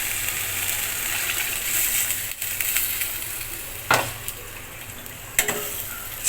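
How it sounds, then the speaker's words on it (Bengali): Water poured onto sizzling fried masala for a Bengali catla fish curry brings a steady, close hiss of frying. A few sharp clicks and spatters break through, with no talking. "এখন আমি পরিমাণ মতো জল দিয়ে দেব।"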